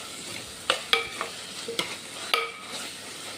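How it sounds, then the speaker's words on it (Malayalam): Tomato, onion, ginger and garlic sauté in a pan, with faint sizzling broken by a few sharp clicks of a spoon stirring against the metal. "ഇനി ഈ വെളുത്തുള്ളിയുടെ ഇഞ്ചിയുടെ ഒരു പച്ച മണം മാറുന്നത് വരെ ഇതൊന്ന് വഴറ്റിയെടുക്കണം"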